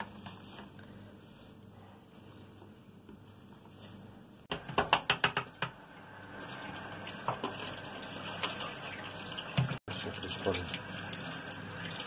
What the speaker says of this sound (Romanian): Spălăm pătrunjelul